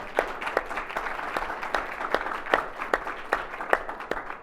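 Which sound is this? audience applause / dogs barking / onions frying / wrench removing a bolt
audience applause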